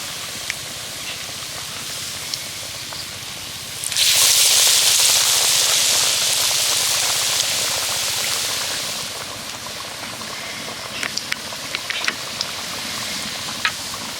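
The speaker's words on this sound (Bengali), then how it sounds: "এবার চপগুলোকে ভেজে নেব" Lote fish chops coated in thin besan batter drop into hot oil in a kadai, setting off a loud, steady hiss of frying that holds for about five seconds before easing back to a quieter bubble.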